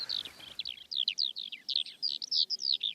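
A farmland bird sings over a hay meadow in Britain, a long run of rapid, bright chirping phrases repeated in quick succession, clear and moderately near against a quiet background.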